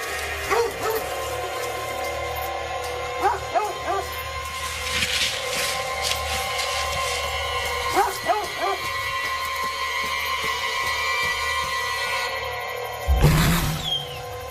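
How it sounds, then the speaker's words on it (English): A dog barks in short, scattered clusters at moderate loudness over a steady background hum, with a heavy thump near the end. "The dog jumped out and started barking and raising Cain"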